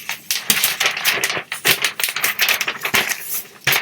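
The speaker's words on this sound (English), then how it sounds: "Sorry about the rustling." Close, crisp rustling and crinkling of paper sewing pattern pieces, continuous with sharp crackly bursts as sheets are handled and shifted.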